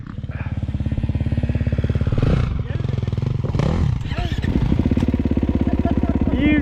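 A Kawasaki KX450 motocross bike revs hard and accelerates after a clutch dump, its loud, close, rapidly pulsing engine note climbing and holding steady throughout, with people talking over it.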